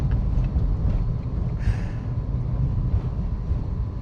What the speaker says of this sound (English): we're making our first turn out onto the street. It's all motor noise.